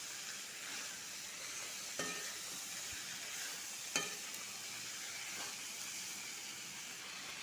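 Bottle gourd greens sizzle steadily in a pan with turmeric, a continuous hissing fry broken by a few sharp scrapes of stirring.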